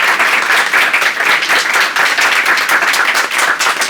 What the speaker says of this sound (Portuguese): Ele foi com uma salva de palmas.